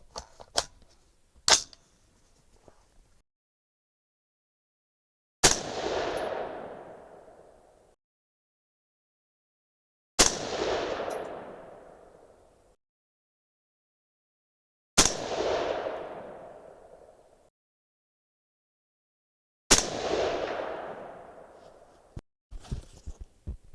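A 6.5 Creedmoor rifle loaded with Berger 130gr bullets fires four loud, evenly spaced shots, each with a sharp crack and a long echoing decay, after a few quieter handling clicks.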